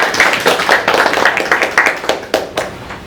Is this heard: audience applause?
yes